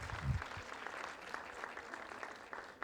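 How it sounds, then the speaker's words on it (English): Faint, distant applause from an audience at a community festival opening ceremony, a soft continuous patter of clapping with a brief low thump near the start. "Let's give him another round of applause, ladies and gentlemen."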